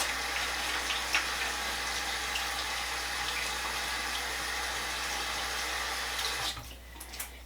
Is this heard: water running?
yes